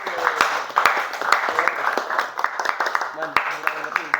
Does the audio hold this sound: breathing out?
no